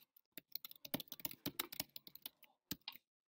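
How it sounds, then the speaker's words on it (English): Fingers typing on a computer keyboard, a quick irregular run of close clicking keystrokes in bursts, with a brief pause before a few final taps. "Type that in."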